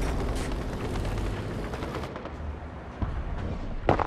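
Aircraft strafing fire in War Thunder from a German Me 262 or early Bf 109, loud dense bursts of gunfire and booming impacts close by, easing briefly before another sharp blast near the end.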